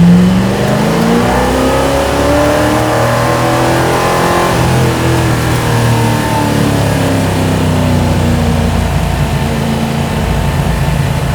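A loud truck engine with mufflers revs at partial throttle and climbs in pitch, rising and falling with a steady, throaty drone for several seconds and no talking.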